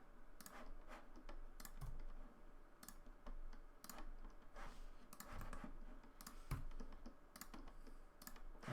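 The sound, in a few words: pressing keys on a computer keyboard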